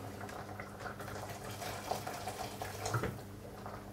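Water is poured into a pot of garlic soup in a home kitchen, a steady, quiet splashing flow with a few small bubbling plops and no talking.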